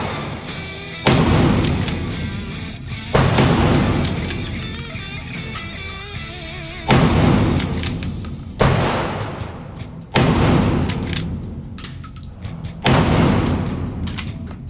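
Fabarm shotgun firing buckshot at an outdoor range, six loud booming blasts spaced a few seconds apart, each with a long rolling decay.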